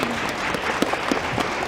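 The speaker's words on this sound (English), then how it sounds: "another round of applause." A burst of audience applause at an Aboriginal law moot event, many hands clapping steadily at moderate volume with no voices over it.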